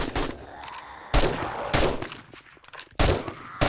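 Gunfire in the zombie survival video game 7 Days to Die, modded: several loud, sharp shots at irregular intervals, each with a short booming tail, near and dominant with no talk over them.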